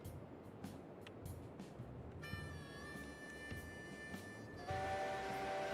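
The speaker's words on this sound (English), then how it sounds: "I can't hear a thing over the whistle." A steam locomotive whistle in the railroad game Railroads Online sounds a sustained tone that swells louder toward the end, over a low rumbling background with a few light clicks.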